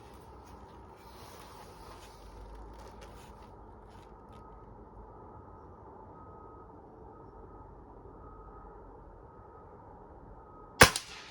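A single sharp crack from an air rifle, a Diana Model 54 Air King or a Norica Omnia ZRS, fired outdoors; it comes near the end after a long stretch of quiet low background hum.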